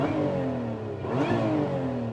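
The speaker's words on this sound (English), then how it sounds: "I love the supercharger whine." Supercharged V6 of a manual Lotus Emira revving hard, a loud steady engine drone rising in pitch with a distinct supercharger whine layered on top, close and continuous with no talking.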